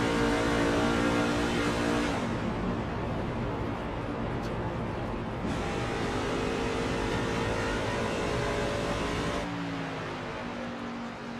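An onboard race truck engine in a stock-style truck series race at Chicagoland drones loudly and continuously, its pitch shifting slightly as the truck powers on. Heard close from inside the cab, with no talking.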